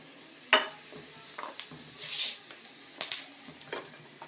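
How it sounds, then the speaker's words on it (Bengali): Cumin seeds drop into hot oil in a kadai with garlic and green chillies, giving a soft, close crackle under a few sharp metallic clinks and stirring taps. "এবার এই কড়াইয়ের মধ্যে বন্ধুরা আমি জিরে ফোড়ন দিয়ে দিলাম"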